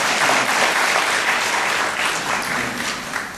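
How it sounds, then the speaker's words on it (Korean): Steady, dense applause from an audience at a Korean public Q&A session, loud and continuous throughout without any talk over it. "박수 치십시오"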